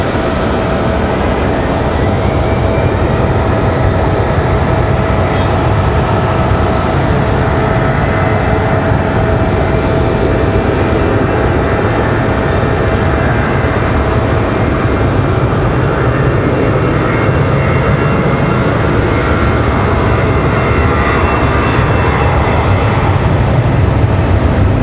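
An A320 airliner's jet engines roar steadily at Raleigh-Durham airport, loud and sustained, with a broad constant rumble and no pauses.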